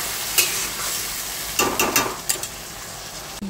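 Tomato paste frying in a pan while being stirred, a steady sizzle broken by a few scraping strokes of the spoon, close and loud with no talk.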